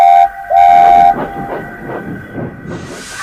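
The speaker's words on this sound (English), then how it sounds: "Duck pushed Oliver in front of the other beast and blew his whistle." A steam engine whistle blows two loud, sustained tonal blasts, briefly interrupted, followed by rhythmic rumbling and hiss of a train moving close by.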